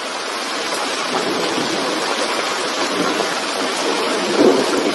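Steady, heavy rainfall hisses evenly throughout, a dense broadband wash with a brief low rumble near the end.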